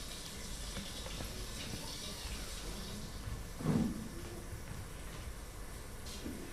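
Water runs from a tap during a stage play about a water crisis, a faint steady stream with one brief louder splash midway, heard alone.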